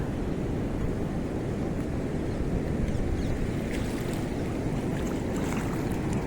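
The overflowing Shetrunji river near Palitana, with its dam gates open, sends a steady, loud rush of water past an old culvert bridge, a continuous broadband roar with no talking.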